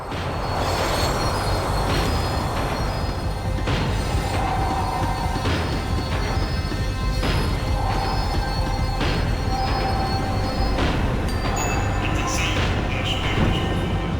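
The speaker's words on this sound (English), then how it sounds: "The tram was slowing down, and I'd only just gotten on board." A tram in Max Payne 3 rolls along the rails while braking, with continuous loud rumble, repeated metallic wheel squeals and periodic clacks over about fourteen seconds, heard up close.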